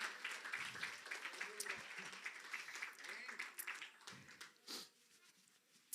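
A church congregation applauding during a Spanish-language sermon, a steady wash of clapping hands that fades and swells over several seconds, with voices calling out over it.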